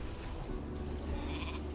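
Sheep bleating from a polymorph spell during a fast-paced online video game match, a single short wavering bleat lasting under two seconds, heard clearly over steady game background noise.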